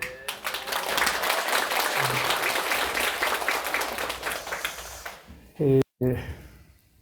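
An audience applauds at a Buddhist dharma talk in a temple, a dense sustained clapping that fades out around five seconds, followed by a brief spoken voice.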